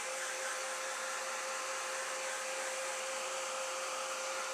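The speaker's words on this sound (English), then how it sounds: "I'm going to use my heat gun." A crafting heat gun blows hot air in a steady, loud, continuous whoosh that holds unchanged from start to finish with no pauses.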